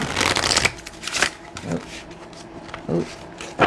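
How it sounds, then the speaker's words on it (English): A deck of cards is shuffled in several quick riffling bursts, close and crisp, with soft pauses between them. "One more shuffle, please"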